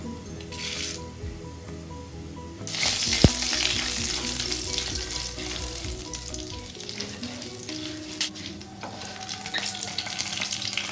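Urad dal drops into hot oil for a beetroot chutney, and the sizzle surges loudly after a brief clatter and keeps crackling steadily, with occasional stirring scrapes and light knocks.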